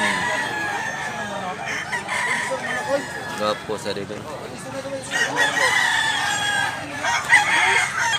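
Roosters and hens at a Cebu fowl sale crow and cluck repeatedly in loud overlapping calls, with someone speaking intermittently underneath.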